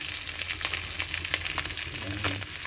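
Halibangbang fish fries in a pan with a steady, dense sizzle and crackle, loud and close, with a low hum underneath.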